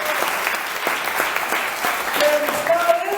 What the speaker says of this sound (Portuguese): Aplauda o Senhor da glória.